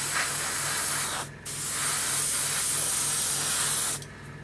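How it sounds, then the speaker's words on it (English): A Gaahleri Ace airbrush sprays a steady, loud hiss of air and paint, cut off briefly for a moment midway, then resuming before stopping near the end. "Really, really good spray."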